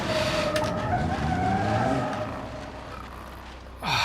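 A race car in BeamNG.drive skids with a loud tire squeal and a sliding screech that fades out, then a sudden harsh crash near the end.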